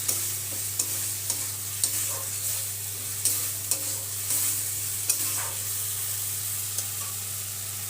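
Fried potatoes with salt, turmeric and spices stirred in a sizzling pan, steady frying hiss with regular spatula scrapes and knocks every half second or so, close and clear over a low background hum, no talking.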